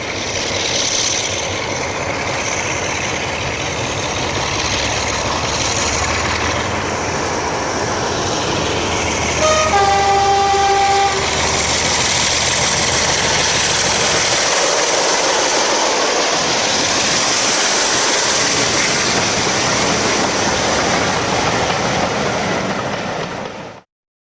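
A Class 45 'Peak' diesel locomotive running at Summerseat in 1998 gives a loud, steady engine roar that fills the whole stretch, with a brief tonal note rising over it partway through before the sound cuts off.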